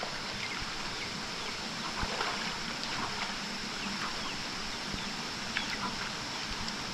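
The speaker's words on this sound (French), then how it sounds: "Activité rinçage de pied après la boue. Comme elle est froide." Cold water splashes and trickles steadily as mud is rinsed off feet outdoors in Sumatra, a constant broadband wash with occasional small splashes and no voices.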